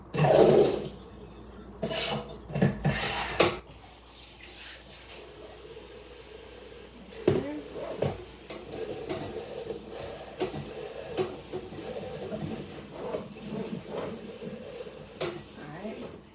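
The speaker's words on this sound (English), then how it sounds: "we are immediately going to rinse and drain with cold water now" Cold tap water runs into a kitchen sink to rinse and drain cooked chickpeas, a steady rushing pour with clanks of a dish at the start and soft splashing throughout, a person talking over it.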